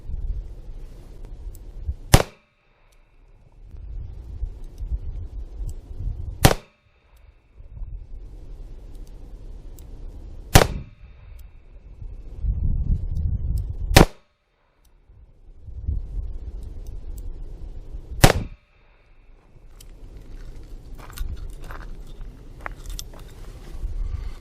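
A 2-inch Smith & Wesson Model 640-1 Magnum Centennial revolver fires Hornady 140 grain ammunition: six sharp, loud reports spaced roughly four seconds apart, with low outdoor rumble between shots.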